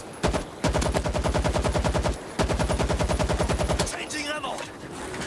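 Stationary machine gun firing in World War Z, mounted in a defensive position: two long, loud bursts of rapid, evenly spaced shots with a brief pause between them, then fainter background game noise.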